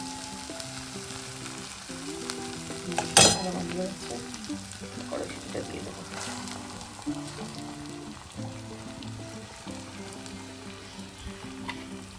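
Steady sizzling of food frying in a wok, with occasional scraping and stirring clatter over a continuous hiss; background music plays faintly throughout.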